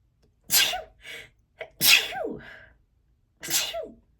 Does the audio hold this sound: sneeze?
yes